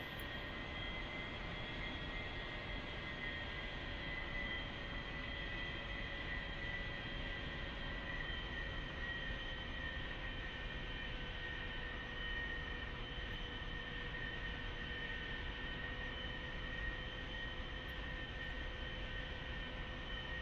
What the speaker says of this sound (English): Chariot's rolling for the individual takeoff maneuvers